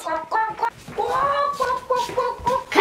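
A cartoon character imitates a chicken, voicing a run of short clucking calls and one longer drawn-out squawk, loud and close with no other talk.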